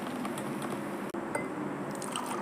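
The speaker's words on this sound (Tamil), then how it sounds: "இப்போ வடிகட்டிக்கலாம்." Grape juice is strained, giving a soft continuous trickling and dripping of liquid, low and steady, with one brief dip.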